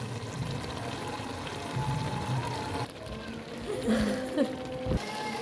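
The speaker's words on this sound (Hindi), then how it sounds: "पानी 1 कप जाएगा इसमें, छोटे वाला कप जाएगा हमारा चीनी का" About a cup of water poured into a pan of carrot halwa (gajar ka halwa), a soft, quiet splashing pour heard close by amid faint kitchen background.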